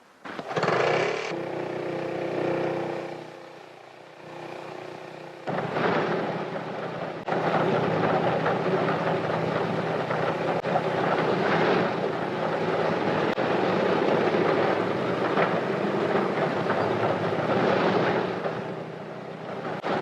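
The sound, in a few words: Handley Page airliner engines starting with auxiliary motor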